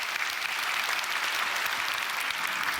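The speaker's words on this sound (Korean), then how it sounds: "우리 박수 한번 해줍시다" A church congregation in an auditorium breaks into applause, an even, continuous roar of many hands clapping that holds at a steady moderate level throughout.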